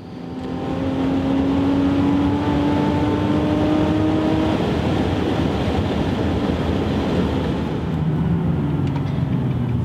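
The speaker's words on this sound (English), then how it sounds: "with it down on the ground, and we can go drive it." A Nissan Z sports car fitted with a thicker upgraded radiator drives along, its engine droning loudly and steadily with rising tones as it accelerates, road and wind noise throughout, no voices.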